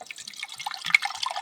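Water is poured from a container for a cup of tea over a German Esbit solid-fuel stove, a close, light trickling and splashing that lasts briefly and carries no voices.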